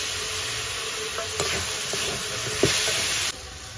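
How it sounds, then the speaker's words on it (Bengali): Spice paste frying and being stirred in a pan of oil while cooking a Bengali boal fish ghonto, a steady loud sizzle and hiss with a few scrapes of the spoon, close up and without voices. "মশলাটা দিয়ে আমি ভালো করে কষিয়ে নেব।"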